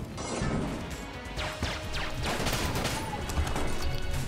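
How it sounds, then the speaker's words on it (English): Explosions in the video game Enter The Gungeon fill a room: a dense, continuous barrage of loud blasts and crashing impacts, layered with gunfire-like bursts, sustained at high level throughout. "That whole room was just an explosion."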